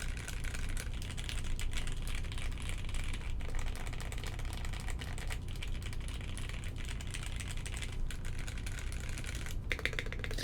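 Steady, continuous typing on a custom mechanical keyboard, a dense run of close, clacky keystrokes with no pauses or talking.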